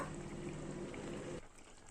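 Egg curry simmers and reduces in a pot, a steady bubbling hiss that drops away abruptly near the end.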